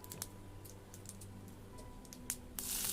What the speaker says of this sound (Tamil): கடுகு நல்லா பொரியட்டும்